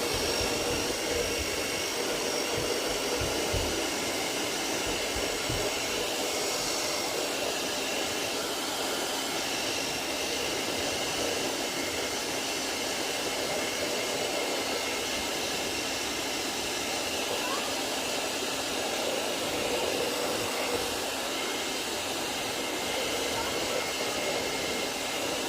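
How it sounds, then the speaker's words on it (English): A hair dryer blow-drying a glue-covered Christmas lantern craft, a loud constant whooshing drone running unbroken and close for the whole stretch, with faint low rumbling beneath. "Blow dry again."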